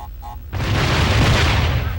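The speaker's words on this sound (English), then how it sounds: "Explosions everywhere!" Loud, close explosion from the video game Crash Twinsanity: a sudden heavy boom that erupts after a short stretch of quieter game sound and roars on as a sustained rumbling blast.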